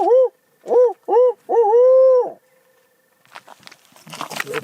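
A hunter out turkey hunting imitates an owl's hoot with a voice call, giving four loud, close hooting notes, the last one drawn out, followed by quiet and then faint rustling and movement.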